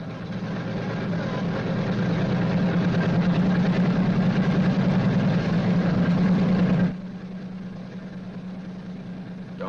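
A Boeing B-29's piston engine runs with a loud, steady droning roar, then cuts abruptly to a quieter, thinner hum for the final few seconds.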